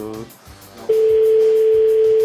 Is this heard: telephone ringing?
yes